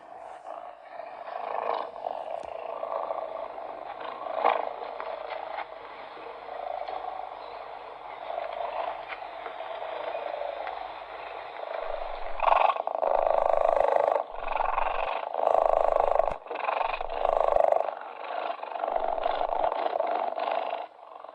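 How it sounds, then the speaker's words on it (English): A cheetah purrs continuously with a close, buzzing rumble that rises and falls in rhythmic pulses as it breathes. "This is the best sound in the world, a happy, contented cheetah."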